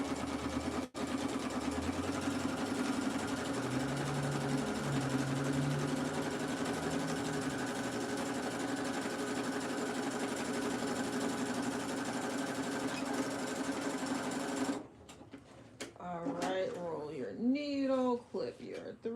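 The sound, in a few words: sewing machine sewing cow print shorts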